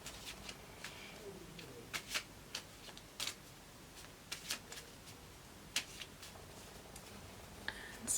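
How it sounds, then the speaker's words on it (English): A deck of cards shuffled by hand at a table, heard as soft riffling and sharp flicking bursts spaced irregularly over a quiet background, close and fairly faint. "I'm going to shuffle again."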